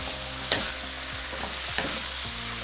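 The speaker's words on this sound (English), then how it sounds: "So one more time stir." Food frying in a pan is stirred, with a steady close sizzle broken by a few scraping stirs of the utensil against the pan, and no voices.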